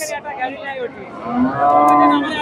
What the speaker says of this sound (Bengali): এখানে মুরব্বির কাছে একটা ষাঁড় দেখতেছি, ক্রস জাতের